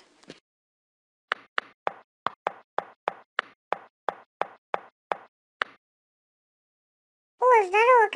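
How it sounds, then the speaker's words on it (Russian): Rapid knocking on a door, a series of about twelve sharp, evenly spaced raps close by, followed by a short burst of warbling electronic tone. "Так кто там опять стучит?"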